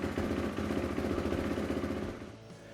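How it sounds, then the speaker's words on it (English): A 2019 Kawasaki KX450 dirt bike engine runs with a close, loud, rapid pulsing thrum after being started, holding steady before easing down near the end. "let's install the side cover and we'll go ahead and fire up the bike"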